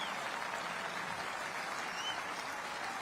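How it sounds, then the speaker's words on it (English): Audience applause honouring the police and their families at a celebration event in Brussels, Belgium: a dense, steady wash of clapping that holds evenly loud for the whole stretch, with no voices over it. "let's give a round of applause to the police and their families for keeping us safe tonight and always."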